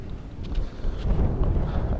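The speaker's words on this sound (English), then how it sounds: "Apologize for the wind." Wind buffeting an outdoor microphone beside a dirt road, a low rumbling roar with gusty swells and no talking.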